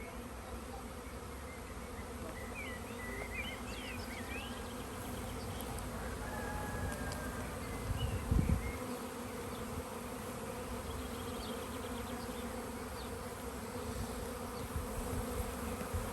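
A honeybee swarm gathered on a stormy day in the Somme countryside, a dense, steady buzzing drone of many bees close by, continuous throughout with a brief louder thump partway through.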